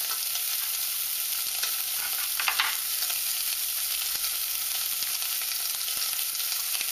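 Chopped carrot sizzles in hot rendered fat for an organic lentil dish, giving a steady, close, bright crackling hiss with small pops and occasional stirring. No one speaks.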